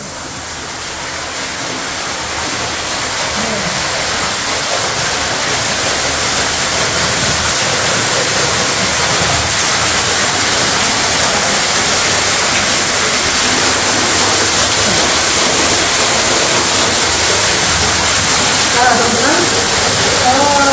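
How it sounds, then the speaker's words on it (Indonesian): Waterfall inside the Saronje cave in Tasikmalaya, a steady loud roar of falling water that swells slightly and continues without a break, with faint voices briefly audible near the end. "kalau di sini tuh ada air terjun nih."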